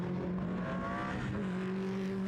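TVR Tuscan race cars howl past on a circuit in a steady, loud drone of high-revving engines, with pitch shifting as they sweep by, heard without any talking.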